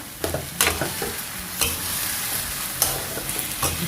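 Steady sizzling of wide rice noodles frying with black soy sauce and pork in a hot wok, with repeated scraping and clattering strokes as they are stirred and tossed.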